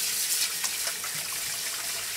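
Tap water runs in a steady hissing stream over mushrooms being quickly rinsed in a kitchen sink, close and continuous.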